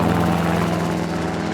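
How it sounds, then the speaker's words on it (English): Helicopter used for mustering a mob of weaner cattle on a vast outback station, its rotor and engine a steady, loud, continuous drone with a pulsing low beat throughout, no voices. "Chopper mustering is a must."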